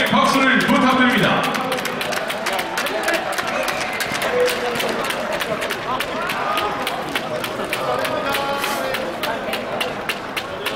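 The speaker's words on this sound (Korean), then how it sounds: "선수들에게 경기의 박수를 부탁드립니다" Stadium crowd applauding after a K League 2 football match between Chungnam Asan FC and Busan IPark, steady clapping spread over a wide space with a public-address voice echoing on top.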